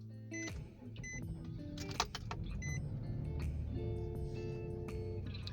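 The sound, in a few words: Nissan Murano engine starting with ignition key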